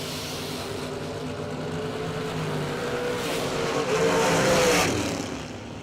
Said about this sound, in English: Double breakout drag race